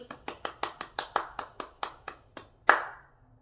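A single person claps about a dozen times in a quick, even rhythm, each crisp slap close and distinct, ending with one louder final clap that rings briefly into silence.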